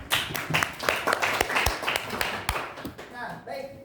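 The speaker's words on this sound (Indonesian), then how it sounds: "beri tepuk tangan untuk kelompok 2 dan kelompok 4" A classroom group claps for student groups after their project presentations, brief scattered hand claps mixed with voices talking over them, fading out toward the end.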